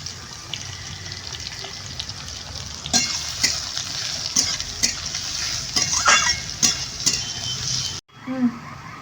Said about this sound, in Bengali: পেঁয়াজগুলো দিয়ে দেবো আর আমি তেলটা একটু অল্পই নিয়েছি